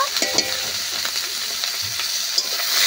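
Small prawns fry in a pan with salt and turmeric, giving a bright, steady sizzle with occasional pops and light stirring, close by and without speech.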